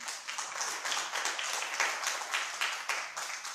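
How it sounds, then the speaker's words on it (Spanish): A church congregation applauds in rhythmic unison, a run of fairly even, repeated claps from many hands, moderately loud and continuous for a few seconds. "Un aplauso al Señor."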